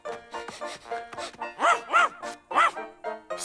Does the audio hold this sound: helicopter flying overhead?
no